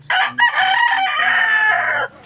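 A rooster crows loudly and close by, one long drawn-out cock-a-doodle-doo with a brief break near the start, then it stops.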